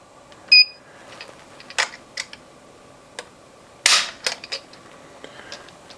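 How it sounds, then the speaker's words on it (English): Sharp mechanical clicks from a Timney Elite Hunter trigger in a Remington 700 6.5 Creedmoor rifle, several isolated snaps spaced irregularly, close and crisp, with a couple of short beeps from a gauge. "So let's do another trigger pull test."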